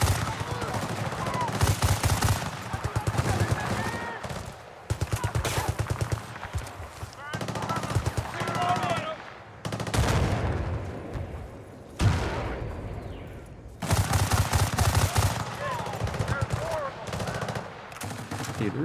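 Automatic weapon fire in the multiplayer shooter Battlefield 6, long rapid bursts of gunfire separated by short pauses, loud and close, with a player's voice intermittently underneath.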